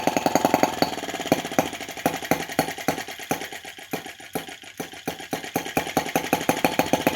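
A small single-cylinder engine on a brass half-tracked Lanz-type model tractor putters close by with a rapid, uneven chug, the beat slowing and wavering before picking back up.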